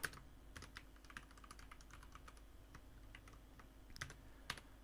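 Quiet, steady keyboard typing as a short line of JavaScript code is entered, with soft irregular key clicks over a low background hiss and a couple of slightly sharper taps near the end.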